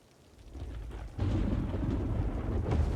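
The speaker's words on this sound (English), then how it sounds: "Rain in paradise here." Thunder rumbles and rain pours in the Cities: Skylines video game, a low rolling rumble that swells after the first second and stays loud and steady with the wash of rainfall, with no talk.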